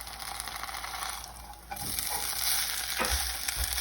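Gujarati sooji handvo sizzling in a kadai just after flipping, a steady close frying hiss with brief scraping stirs partway through.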